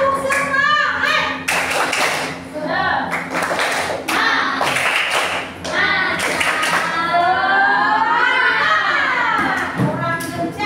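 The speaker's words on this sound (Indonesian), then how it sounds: "Oke, tepuk semangat." Classroom of fifth-grade children doing a rhythmic 'tepuk semangat' spirit clap, bursts of patterned hand claps in quick sets interleaved with a teacher and kids chanting loudly together.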